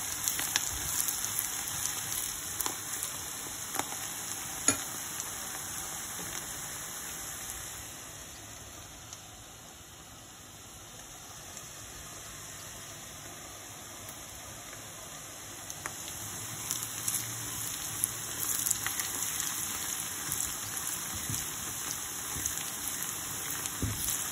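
Onion, red beans and chicken gizzards fry in a pan with a steady, soft sizzling hiss that continues evenly with no talk.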